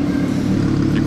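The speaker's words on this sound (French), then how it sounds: "Qu'est-ce qu'elle sonne bien avec le Capristo, et ça dénature pas le bruit de la R8" An Audi R8 fitted with a Capristo exhaust gives a short, loud, steady engine drone close by, with no voices.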